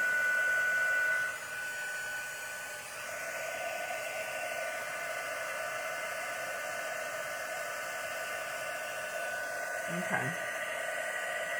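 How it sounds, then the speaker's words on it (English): A heat gun blows continuously while heating a handmade spring card, giving a steady, close whooshing hiss with a slight tonal whine. A voice speaks one brief word near the end. "It always takes a few minutes for the first one till the heat gun gets nice and hot."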